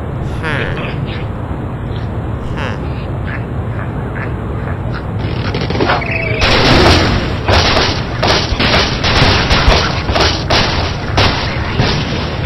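Explosions in the Angry Birds Friends video game arrive as a series of loud, sharp booms and crashing bursts, clustered in the second half over game background sound, with a voice talking in places.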